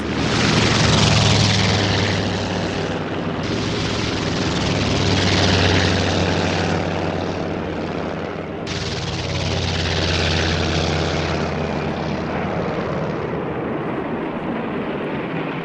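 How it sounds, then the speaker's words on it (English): WWII Japanese propeller warplanes of the second Pearl Harbor attack wave taking off from an aircraft carrier, a loud continuous droning engine roar that swells and shifts as planes pass, steady throughout with no speech. "167 aircraft of the second wave of attackers took off."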